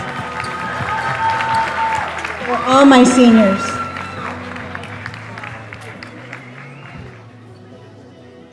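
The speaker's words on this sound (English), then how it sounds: "A round of applause" Applause and crowd noise at a high school basketball game between the Wildcats and Panthers, swelling briefly under a speaker's voice with a cheer-like tonal burst, then fading as talk continues.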